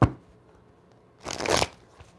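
A deck of cards gets a quick shuffle, heard as a single close, rustling riffle burst of about half a second, after a brief knock at the start and quiet room tone.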